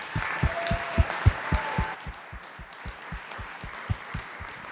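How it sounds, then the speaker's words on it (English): A closing-event audience applauds, with low thumping claps standing out in an irregular patter over a faint, diffuse crowd wash. The clapping is moderately quiet and eases slightly partway through. "give yourself a round of applause for a wonderful event"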